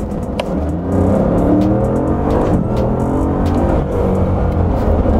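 A Bugatti Chiron with a 1500 hp engine accelerates hard at full throttle, its deep engine roar building loudly and steadily for several seconds with no one talking over it.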